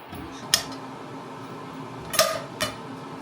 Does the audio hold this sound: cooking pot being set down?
yes